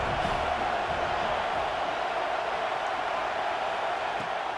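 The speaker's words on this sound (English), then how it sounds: "This crowd ready to make its presence known." A stadium crowd cheers in the video game EA Sports College Football 26, a steady, loud, unbroken roar of massed voices filling the whole stretch with no distinct peaks.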